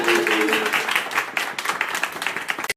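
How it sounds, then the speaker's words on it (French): A small group claps in welcome for a person named Anissa, the sound quick and uneven with distinct claps thinning out before stopping abruptly. "un bon accueil à Anissa et applaudissements"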